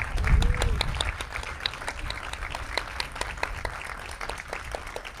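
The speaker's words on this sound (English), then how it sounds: "give them another round of applause" An audience at a school grand opening event in San Antonio applauds its teachers, a steady wash of many hands clapping at moderate distance, with a brief low voice near the start and individual sharp claps standing out throughout.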